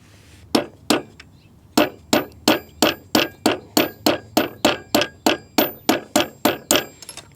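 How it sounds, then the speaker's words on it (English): An Allen wrench used as a punch is struck to tap a part out during assembly of an ONYX RCR: about seventeen sharp, close metallic knocks in a steady, even rhythm after a few spaced opening hits. "you can use one of your little Allen wrenches as like a little punch to kind of hit it through"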